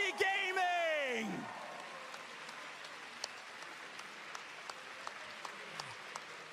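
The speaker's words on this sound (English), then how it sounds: "applause for your world champions" Applause and cheering for the world champion team at a Pokémon Unite championship watch party, a steady crowd clapping that fades under a loud announcer's voice at the start.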